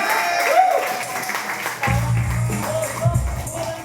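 Applause from a small audience at a mini concert at Unknown13 in Katipunan, Quezon City: a steady, fairly loud wash of clapping with crowd murmur, joined midway by a low hum from the stage.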